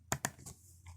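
Typing on a computer keyboard during data entry: two sharp close key clicks, then a softer third and a faint fourth, with quiet room tone between.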